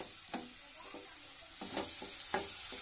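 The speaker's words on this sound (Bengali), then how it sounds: "আরেকটু জল দিয়ে ভালো করে কষে নিচ্ছি" Mustard and cumin paste fish curry gravy being stirred and sizzling in a pan, with repeated spoon scrapes over a steady frying hiss, close and moderately loud.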